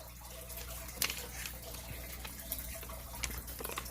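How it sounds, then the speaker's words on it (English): Water gurgles and trickles steadily from a fish tank, close and soft, with small drips and splashes scattered through the flow. "I just can't get over the water noise."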